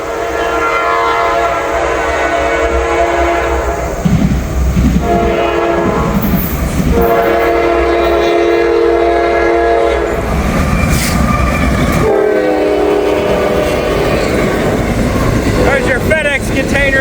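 An intermodal freight train carrying containers rolls past loudly at close range, its horn blaring in long blasts over the steady rumble and clatter of railcars, with someone talking briefly over it.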